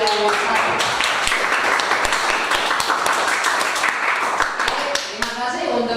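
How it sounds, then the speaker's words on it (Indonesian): A classroom full of students applauds a classmate, with dense, continuous clapping that is loud and close, tapering slightly near the end. "kalau cukup kita kasih aplaus ke temenmu yang satu"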